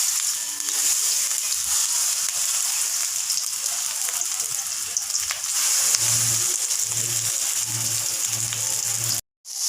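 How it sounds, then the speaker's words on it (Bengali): Soybean chunks drop into hot oil in a pan and fry with a steady, loud, close sizzle throughout, broken by a brief pause near the end. "আমি এখন সোয়াবিনগুলো ছেড়ে দিচ্ছি।"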